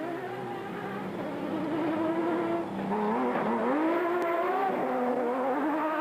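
A Nissan hardbody race truck in an off-road endurance race, recorded onboard while overtaking, with a steady loud engine drone that rises and falls in pitch as it shifts and accelerates.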